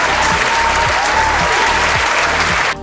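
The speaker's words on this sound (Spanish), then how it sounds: "Aplauso" Loud, close applause lasting nearly three seconds before cutting off abruptly, with a low rhythmic hum beneath the clapping.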